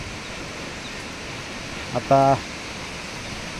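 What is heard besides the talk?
Vasundhara waterfall, roughly 100-foot drop, heard from approaching footpath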